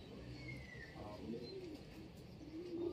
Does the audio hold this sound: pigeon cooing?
yes